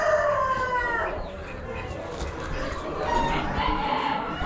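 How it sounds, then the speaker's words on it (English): Small roosters crow at an Amish auction, a couple of drawn-out calls standing out over a noisy crowd of poultry and faint background chatter. "A couple more little roosters."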